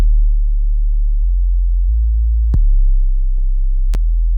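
A deep, smooth sub bass line hums steadily with slow note changes, broken by a couple of sharp clicks; no other instruments or voices.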